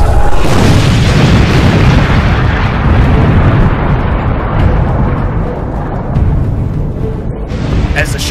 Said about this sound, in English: Finally, prepare for the blast.